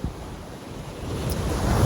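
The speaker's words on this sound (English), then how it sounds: "And the sea is pretty rough today." Rough winter sea waves wash onto a beach in Wells, Maine, a continuous broad roar of surf swelling slightly louder, heavily mixed with wind buffeting the microphone.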